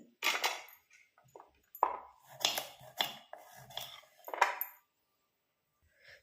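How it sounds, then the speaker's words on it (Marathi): A knife cutting through pumpkin (dangar) on a board, several sharp close chops and scrapes spaced irregularly with quiet gaps between. "तर आता आपण हे सगळं कट करून घेऊया."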